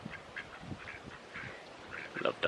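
Ducks near a caravan quacking in short scattered bursts, fairly close and soft, with a sharper cluster of quacks at the end.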